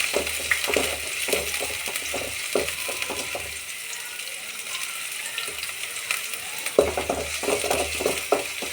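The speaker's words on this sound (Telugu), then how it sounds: "ఒక కడాయి పెట్టుకొని అందులో కొద్దిగా నూనె వేసుకొని కొన్ని ఎర్రగడ్డ ముక్కలు, 2 పచ్చిమిర్చి, కొద్దిగా కొత్తిమీర, పుదీనా వేసుకొని వీటిని బాగా వేపుకోవాలండి" Onion pieces, green chilies, coriander and mint fry in oil in a kadai, a steady close sizzle with stirring clatters in bursts, louder at the start and end and quieter in the middle.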